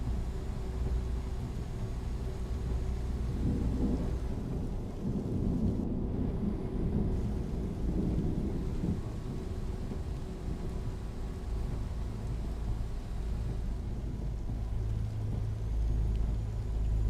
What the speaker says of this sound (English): driving and the sound of rain